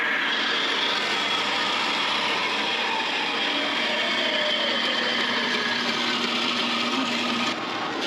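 A length of metal tubing being cut down to a 2–3 inch piece, loud steady grinding-cutting noise running continuously for the whole stretch without letting up.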